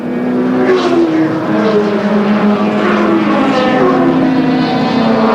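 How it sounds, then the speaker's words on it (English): Group C touring race cars, including a BMW, roar past at Amaroo Park in 1984, engines loud and close with rising and falling pitch as they shift and pass one after another. "Jim Richards in the BMW, but under pressure now from 7 times Bathurst winner Peter Brock"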